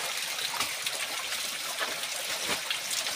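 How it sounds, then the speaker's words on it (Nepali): Water in a stream flows in a steady, rushing burble, close and moderately loud, with no voices. "हामीले यो खोलाको पानी खाइरहेको छौँ"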